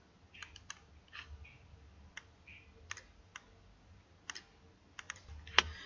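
Scattered mouse and keyboard clicks on a computer while browsing a travel booking site for Dubai flights and hotels, sharp isolated taps spaced irregularly over a quiet background, one louder click near the end.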